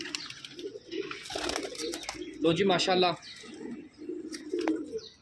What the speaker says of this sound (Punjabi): ਮਾਸ਼ਾਅੱਲਾ ਖੂਬਸੂਰਤ ਕਬੂਤਰ